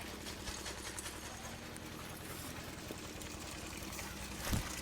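Water pours and trickles steadily into a bottle from an old natural stepwell in Punjab, a soft continuous gurgle held near and alone with no voices.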